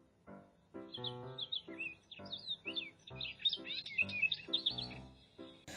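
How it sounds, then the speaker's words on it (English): A little bird sings in a close, lively run of quick chirps and tweets that carries on almost without pause for about six seconds, alone with no talk. "whenever that little bird sees the chipmunks, he sings"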